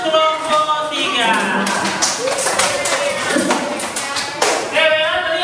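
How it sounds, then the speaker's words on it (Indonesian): Classroom of primary school children clapping for a student discussion group, a lively patter of small hands throughout, with a teacher's voice and children's voices audible over it. "Tepuk tangan dulu untuk kelompok 3."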